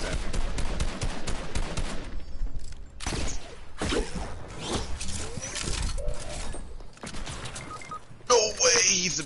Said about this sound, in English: people are shooting flares at me.